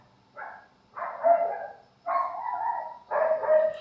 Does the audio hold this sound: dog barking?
yes